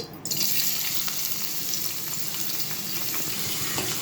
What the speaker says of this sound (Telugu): కళాయి పెట్టుకొని దాంట్లో నూనె వేసుకున్నాం. ఇప్పుడు ఆనియన్స్ వేద్దామండి.